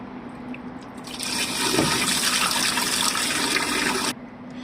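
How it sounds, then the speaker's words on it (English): Liquid waste glugs and splashes out of a camper van's portable toilet cassette through its pour pipe while the vacuum breaker button is held, a steady close rushing pour lasting a few seconds before cutting off abruptly. "grab the cassette like this and pour out through the pipe while you're pushing this vacuum breaker button here to let a little bit of air in"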